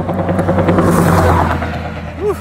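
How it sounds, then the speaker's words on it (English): A passing truck, a loud low rumbling engine drone that builds and then fades as it goes by, heard close outdoors with no one speaking. "Whew, I didn't like the sound of that truck."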